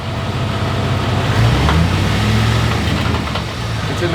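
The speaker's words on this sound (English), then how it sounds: "Rev it a little." A Chevy Avalanche tow rig with a custom exhaust rumbles nearby in a deep, loud drone, rising slightly in a gentle rev midway, with no voices over it.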